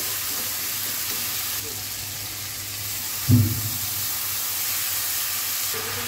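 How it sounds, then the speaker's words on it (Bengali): Spice paste fried in a pan for shrimp curry makes a steady, close hiss of sizzling oil. A single dull knock from the pan or spoon breaks it midway. "মশলাটা মোটামুটি কষানো হয়ে গেছে, এখন মাছগুলো দিয়ে ভালো মতো নেড়ে কষিয়ে নেব"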